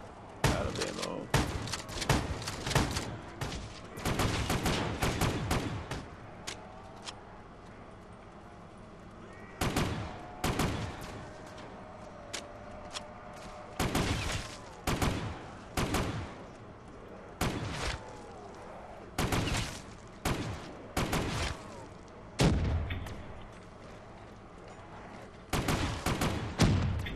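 Repeated shotgun blasts in the Black Ops III zombies challenge on the map The Giant, loud booming shots coming in irregular bursts and single bangs with short gaps between them, with a little game background noise.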